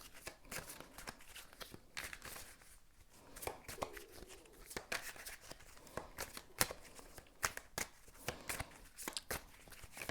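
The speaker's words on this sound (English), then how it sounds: "I'm going to shuffle and see what the cards have to say" A deck of tarot cards is shuffled, giving soft, quiet riffling and slapping clicks in irregular bursts, close and faint, with no talk.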